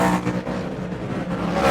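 Superstock race car roaring around a speedway dirt track, a loud close engine drone with shifting pitch as it sweeps past.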